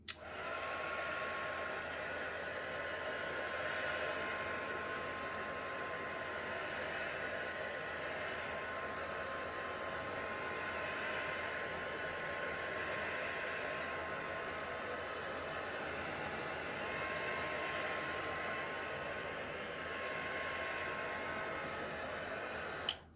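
A hair dryer blows steadily on thick acrylic paint in an art studio, a loud, even whooshing hiss held without a break from start to finish, with no voices over it.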